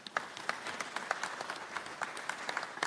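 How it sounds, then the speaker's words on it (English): A modest crowd at a small-town community townhall claps for an incoming speaker, with scattered, uneven hand claps at moderate distance that stay fairly quiet and carry on through the whole stretch with no voices over them. "so you can clap for him"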